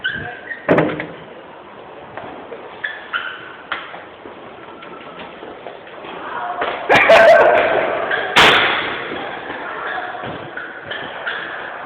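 A door is pushed open during a school egg-drop project shoot, producing a couple of sharp knocks and a sliding scrape among chatter and handling noises.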